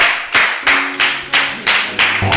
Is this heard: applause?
yes